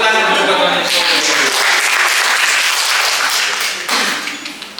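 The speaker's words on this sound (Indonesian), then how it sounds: "Tepuk tangan dulu buat Tuhan Yesus." Church congregation clapping together in worship, a dense, loud burst of many hands that holds steady and then gradually thins and fades toward the end.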